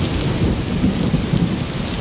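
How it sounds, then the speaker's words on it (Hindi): Wind and heavy rain pound down in a fierce storm over a small canvas tent camp, a dense, loud, steady roar with deep thundery rumbling and no voices. "हवा और बारिश का ये तूफान 1 घंटे तक चला"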